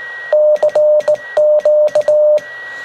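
A steady pure CW tone from a home-built Pixie 40-meter QRP transceiver, keyed on and off in short and long bursts, Morse-code style, loud and clear with no talking.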